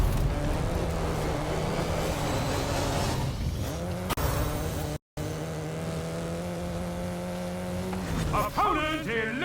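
An Audi RS7 races in a video game on a dirt road. A steady engine drone runs throughout, then tires squeal and the engine revs sharply near the end.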